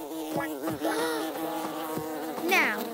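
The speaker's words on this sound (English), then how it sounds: "Makar, are those bees attacking?" Cartoon bees buzz loudly and close, their drone wavering in pitch as they swirl around, with occasional swooping rises.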